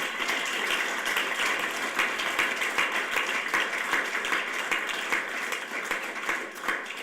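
An audience at a 2021 innovation demo day for extended-studies graduates claps steadily, with many hands making an even, rattling applause that lasts throughout.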